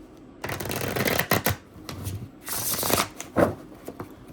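Gold foil tarot cards being shuffled in several quick riffling bursts, slick and crisp, close up with short pauses between.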